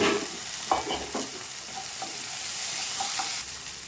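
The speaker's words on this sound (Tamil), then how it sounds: "எண்ணெய் காஞ்சிருச்சு. இப்போ சின்ன வெங்காயம் அதையும் போட்டு வச்சுட்டு" Small shallots fry in hot oil for a Tamil country-chicken curry, a soft continuous sizzle with a few light stirring scrapes and taps near the start, no talking.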